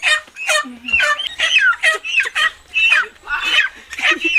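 Busy chicken clucking and squawking, several birds calling in quick overlapping bursts, fairly close and steady throughout.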